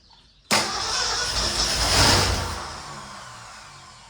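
A 1963 Ford Fairlane 500 engine catches abruptly and roars into a loud, steady run close by, swelling briefly before settling toward a rough idle, with no talk.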